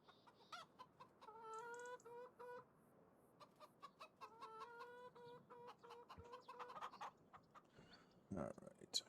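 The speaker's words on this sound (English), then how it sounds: "The sweet sounds of chickens." Chickens on a rainy November homestead field, clucking and squawking in repeated bursts with rising tonal calls, fairly faint and steady across the clip, alongside scattered ambient noise and a louder thump near the end.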